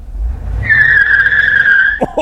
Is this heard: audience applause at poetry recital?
no